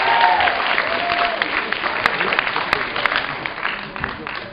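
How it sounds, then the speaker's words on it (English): Applause from a comedy show crowd in Manchester, a dense steady patter of clapping that carries on throughout, with a few sharper claps standing out near the end. "Give yourself a huge round of applause, please."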